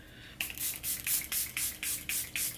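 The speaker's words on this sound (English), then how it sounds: "So I'm going to spray my face." Setting spray misted onto a face during a glam makeup routine: about eight short hissing spritzes in a quick, even rhythm, close and fairly loud, with no talking.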